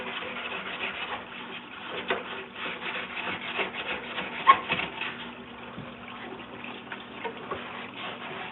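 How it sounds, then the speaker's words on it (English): Belt sander grinding down a metal elevator part, a steady close abrasive rasp with irregular scraping swells and a few sharp ticks, running alone without talk. "this might need the belt sander"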